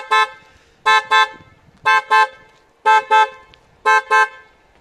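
Panic alarm on a 2000 Chrysler 300M: the car horn blares in a steady pattern of paired honks, five double blasts evenly spaced, loud and close with quiet between and no talk.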